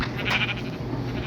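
A Minecraft sheep gives a single wavering bleat, close and clear over a steady low game background, with no talking.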